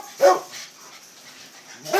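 Dog barks at a rural river dog kennel, one loud close bark near the start and another at the end, with a quiet pause between.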